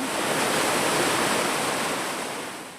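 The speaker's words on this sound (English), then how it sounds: "Water flows downhill from Pelican Creek through this flume." Water from Pelican Creek rushes steadily down a hydroelectric flume in Pelican, Alaska, a loud, dense, continuous roar with no voices, easing slightly toward the end.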